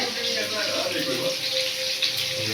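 Hands are washed under a running tap in a home kitchen, a steady close rush of splashing water with faint voices in the background.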